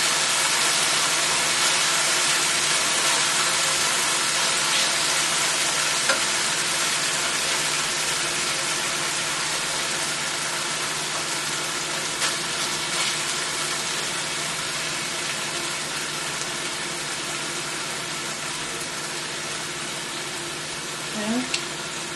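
Chicken pieces frying in a pan give a steady, broad sizzling hiss that runs unbroken and fairly loud, with a few faint pops and no talking.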